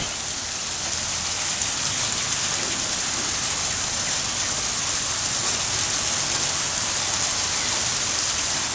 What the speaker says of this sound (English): Combination of snow and rain.